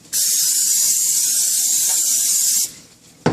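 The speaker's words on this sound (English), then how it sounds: "my grilling pan is getting hot, so I'm going to spray some palm oil on this" A steady, loud hiss of palm oil spraying onto a hot grill pan for a couple of seconds, then it cuts off, followed by a brief clatter.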